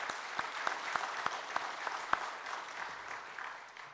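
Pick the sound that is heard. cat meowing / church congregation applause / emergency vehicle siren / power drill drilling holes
church congregation applause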